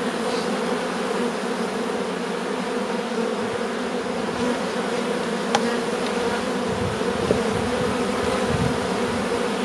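Honeybees buzz steadily at an open hive during a spring colony inspection, a dense continuous drone close by with a few individual bees flying past the ear, no talk.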